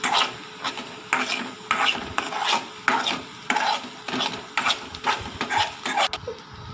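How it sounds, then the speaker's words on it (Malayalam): Ground paste being stirred into sautéed onions in a pan, a close rhythmic run of scraping spoon strokes every half second or so over a faint sizzle, with no voices. "നമുക്കതിലേക്ക് അരപ്പ് ആഡ് ചെയ്ത് കൊടുക്കാം നന്നായി മിക്സ് ചെയ്യുക"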